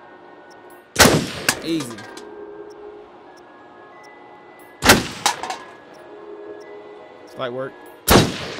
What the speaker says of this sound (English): Wow, nice shooting, Tex.